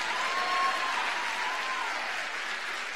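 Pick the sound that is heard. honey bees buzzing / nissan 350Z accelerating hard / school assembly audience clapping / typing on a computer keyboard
school assembly audience clapping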